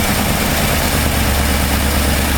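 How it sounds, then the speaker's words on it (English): A 1968 Ford F250 truck engine with a freshly rebuilt carburetor idles too high, a loud, steady, continuous rumble with a deep low-end throb and no pauses or talk. "It's idling too high."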